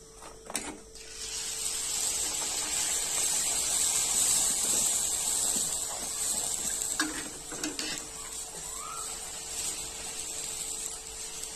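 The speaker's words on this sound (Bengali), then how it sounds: "ঠিক একই ভাবে সবগুলো লুচি আমরা ভেজে নেব।" Mango luchi deep-frying and puffing in hot oil, giving a steady, moderately loud sizzling hiss throughout, with a few faint clatters and no speech.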